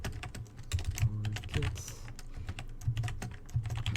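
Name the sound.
typing code on a computer keyboard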